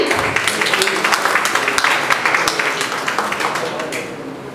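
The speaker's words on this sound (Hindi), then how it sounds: "तालियां गूंजनी चाहिए" Audience applause at a book launch event, a steady dense clapping from a crowd that fills the whole stretch and fades slightly toward the end.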